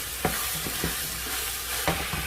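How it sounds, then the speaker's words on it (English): Hamburger meat browns with half-cooked onions in a pan for northern-style chili, giving a steady close sizzle. Three or four quick scraping stirs of a spatula cut through it, with no voices. "Now we will add the hamburger meat to the half-cooked onions, as you can see. And we get our meat browned, nice and brown."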